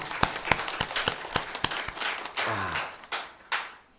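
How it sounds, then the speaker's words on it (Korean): A church congregation applauds the praise team with a few sharp, scattered claps that thin out into a handful of isolated hand claps in a quiet hall. "우리 찬양단 박수 한번 치겠습니다."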